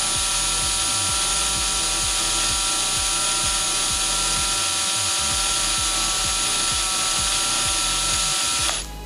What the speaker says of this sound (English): lift your drill bit out.